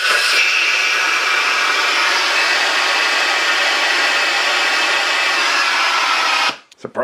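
A Dremel suck tool runs on 100 PSI compressed air, a loud, steady, broadband rushing hiss held nearly seven seconds before cutting off abruptly, with a couple of faint clicks after.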